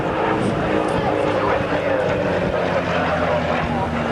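An RAF C-130 heavy transport turboprop at an air show at RAF Valley, Anglesey, in 1991 produces a loud, steady propeller drone and engine roar throughout, with voices talking over it.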